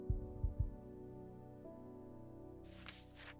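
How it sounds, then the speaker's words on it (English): In the video game Strange Horticulture, three heavy, muffled heartbeat thumps come close together at the start. A steady low hum follows, then faint breathy noise. "why did I just hear a weird heartbeat sound?"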